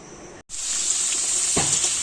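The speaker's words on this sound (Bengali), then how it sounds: "আলুটাই ভাজা ভাজা হয়ে গেছে প্রায়" Potatoes fry in hot oil with a steady bright sizzle; a brief dead gap comes early, then the hiss returns and runs continuously, with one short scrape or stir near the end.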